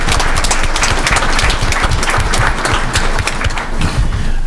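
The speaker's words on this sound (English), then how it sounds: "So let's just give a round of applause" A round of applause fills a school board of education meeting, with dense, steady clapping from the room holding evenly across the whole stretch and no voices rising above it.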